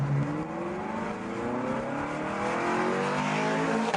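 A Ferrari California's engine runs steadily close by, its rising harmonic tones climbing as the car accelerates under load, with no talk over it.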